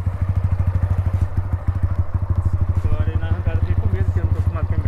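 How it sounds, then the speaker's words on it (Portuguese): A Yamaha Factor 150 motorcycle runs up close, its engine making a loud, rapid, even thumping pulse that keeps going throughout, with a voice faintly heard over it near the end. "Olha, rapaziada, ele vai de Yamaha agora."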